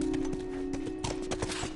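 Horse hooves clip-clop in The Last of Us Remastered, a run of close, uneven strikes over a steady game background hum, with no speech.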